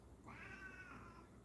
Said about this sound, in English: I can literally talk to this cat, and he talks back.